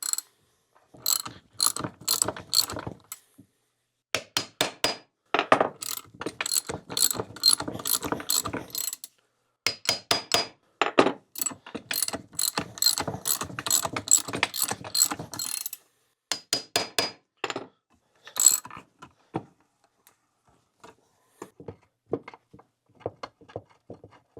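A hand ratchet cranks in quick bursts of rapid clicking while a puller splits the engine cases of a Kawasaki KX125 two-stroke motocross bike, close and loud, pausing between runs with sparser clicks near the end.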